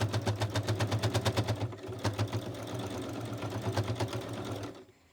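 A small domestic sewing machine stitches through a thick book-page notebook, running in rapid rhythmic bursts of needle strokes, pausing briefly, then continuing at a steadier pace before stopping; close and clear with no talking.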